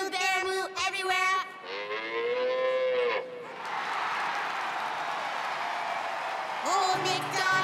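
Cows moo in long, drawn-out calls, several in quick succession and then a sustained low one, with a crowd-like wash of noise between them and another moo at the end; the tune of a farm song surrounds them.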